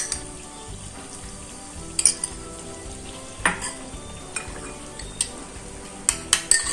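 Chilli garlic chicken sizzles in a pan as tomato, soy and chilli sauces are stirred through it, with a continuous frying hiss and occasional sharp spoon clinks against the pan.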